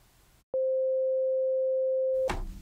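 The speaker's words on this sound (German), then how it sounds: "so klingt der Sinus und der wird hier drin erzeugt von einem sogenannten Operator" A pure sine tone from the FM zone operator in the HALion 7 software synthesizer holds steady at one pitch for about two seconds, loud and alone after a brief silence, then noise returns.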